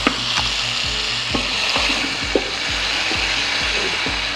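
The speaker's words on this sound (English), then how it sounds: "These tomatoes are frying gently in a mixture of olive oil and animal fat" Tomatoes fry in a pan in a mixture of olive oil and animal fat for a quick pasta sauce, a steady close sizzle broken by repeated soft clacks and scrapes of stirring.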